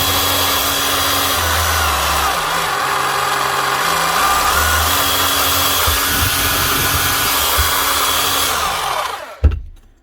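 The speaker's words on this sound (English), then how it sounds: "Now, she's in rotary hammer mode." A worn Makita HR4013C rotary hammer runs in rotary hammer mode, a loud steady motor whine with a rattling mechanical drone that holds for about nine seconds before abruptly cutting off with a thump.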